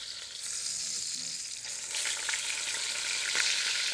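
Beef bottom round sears in a hot pan with a steady, loud sizzle that swells slightly toward the end, with a few sharper crackles near the close and no talking.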